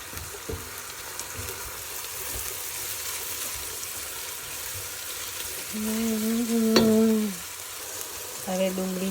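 Green onions added to garlic sizzle steadily in a hot frying pan, a close, continuous crackling hiss with a few brief tonal clinks of utensils near the end.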